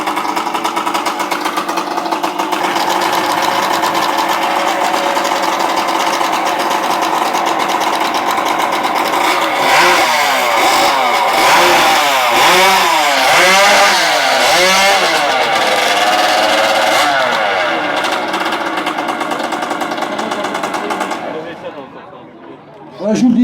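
A racing chainsaw fitted with a kart engine screams continuously close by in a competition, its high-revving buzz wavering in pitch with bursts of load, while voices chatter in the background; it cuts off near the end.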